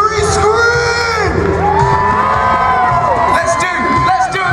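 Spectators at a freestyle motocross show at Goodwood Festival of Speed scream and cheer together on cue, a dense, sustained wall of shrill children's and adults' voices with whoops rising over it.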